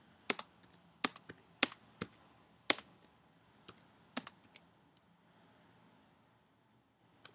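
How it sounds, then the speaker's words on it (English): Separate keystrokes on a computer keyboard, with single letters typed one at a time and spacebar presses between them: about ten crisp, close clicks come at an uneven pace, then trail off into quiet near the end. "I'm going to type in T space A space"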